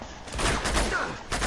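A dense burst of rapid pistol fire from the video game Uncharted 2, with sharp repeated shots and some voice mixed in.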